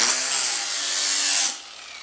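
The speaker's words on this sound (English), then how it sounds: "try to grind away from the tip" Grinder working a lawn mower blade, a steady hissing abrasive grind heard close and fairly loud, easing slightly midway before cutting off and leaving a faint residual hum.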